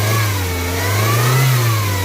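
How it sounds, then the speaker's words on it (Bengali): A car with a freshly reconditioned engine revs up close, a loud, continuous mid-pitched roar that rises slightly in pitch and then holds, with nothing else heard. "এই অবস্থায় আমার গাড়ির সাউন্ড আছে এই যে।"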